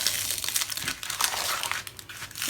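Paper for a Christmas mini album is folded by hand, making close, continuous crinkling and crisp rustling with a few sharper creases, and no talking.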